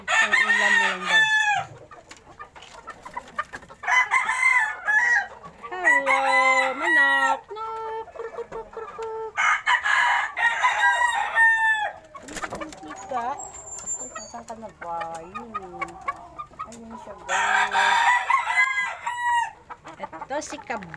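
Hens cluck repeatedly in bursts in a small rooftop coop, with a rooster crowing at times, close by and fairly loud, with brief pauses between the flurries of calls.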